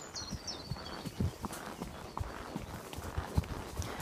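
Cattle trotting give a steady, muffled clip-clop of hooves over a continuous outdoor background hiss, irregular beats at moderate distance with no talk.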